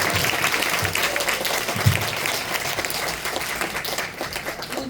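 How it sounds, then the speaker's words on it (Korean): At a humanities and arts concert in Seoul, a hall audience gives a warm, continuous round of applause welcoming stage actress Park Jeong-ja, the clapping dense and even and easing slightly toward the end. "여러분 큰 박수로 환영해 주십시오."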